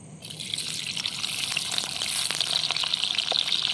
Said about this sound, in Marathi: त्याला मस्त असा तळून घेते लाल वाटात